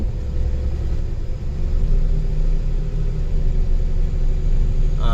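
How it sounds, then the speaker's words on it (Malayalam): A vehicle engine labours steadily on a muddy slope, a loud, close, low rumbling drone that holds without climbing. "വണ്ടി കയറുന്നില്ല കേട്ടോ."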